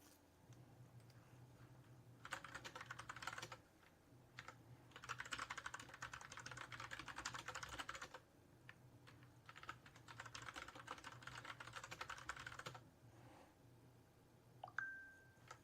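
Keys clatter on a computer keyboard as a one-time password is entered, coming in several quick bursts of steady typing separated by short pauses, with a brief click near the end.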